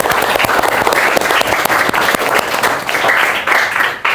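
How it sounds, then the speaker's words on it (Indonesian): A classroom of students claps for a classmate in a sustained, loud burst of applause that keeps an even intensity throughout. "tepuk tangan untuk Nafa."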